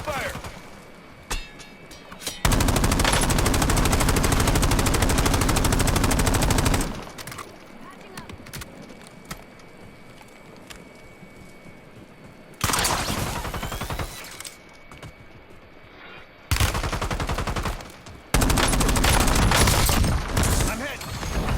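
Automatic gunfire in the Call of Duty video game, rapid sustained bursts in several long loud stretches separated by quieter gaps, with voices talking over the firefight.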